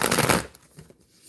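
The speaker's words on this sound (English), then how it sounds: "I'm going to shuffle these" Tarot cards being shuffled by hand, a quick dense riffle of flicking card edges up close that stops abruptly, leaving a few soft taps and near silence.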